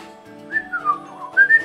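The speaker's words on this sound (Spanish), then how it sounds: "Es difícil silbar con la boca tapada." A character in the video game Indivisible whistles a short melody with a covered mouth. The muffled, close tune holds one note, then bends through several rising and falling pitches.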